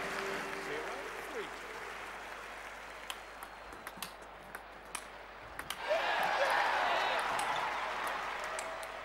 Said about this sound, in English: The crowd go wild and they respond.